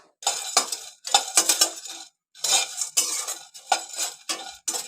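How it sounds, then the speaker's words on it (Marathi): Cinnamon and cloves dry-roasting in a pan for Malvani masala, heard as bursts of dry rattling and scraping as a spoon stirs the whole spices, close and fairly loud with short pauses between strokes. "एकत्र भाजते दालचिनी आणि लवंग"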